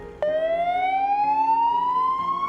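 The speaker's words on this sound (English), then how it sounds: "Police sirens break the silence of the night." A police siren wails steadily, its pitch sliding slowly upward as it sounds loud and continuous without any voices.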